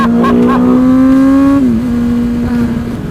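A carbon-bodied Ducati Panigale sportbike engine holds a loud, steady, high-pitched rev, then briefly dips and settles back to a sustained drone, heard up close with no talking.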